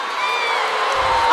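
Loud Las Vegas arena crowd at a UFC fight, a dense sustained roar of many voices with a wavering drawn-out tone, close and unbroken.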